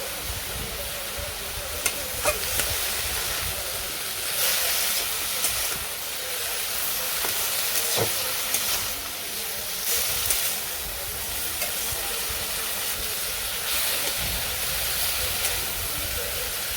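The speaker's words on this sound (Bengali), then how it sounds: "ভালো করে ভেজে নেই" Food fries in a pan with turmeric powder in a village kitchen, a continuous hissing sizzle broken by occasional knocks and scrapes from stirring.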